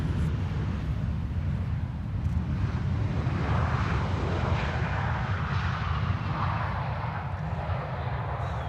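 An airliner landing at Amsterdam Schiphol with no thrust reversers deployed gives a steady, fairly loud jet roar of broadband rumble that holds even throughout with no rising reverse-thrust surge.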